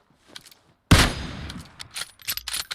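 AK rifle fire in PUBG Mobile: one loud, close burst of shots with a sharp attack, then a ringing tail that carries several fainter shots spread out after it.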